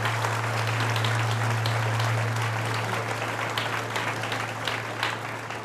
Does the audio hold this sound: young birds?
no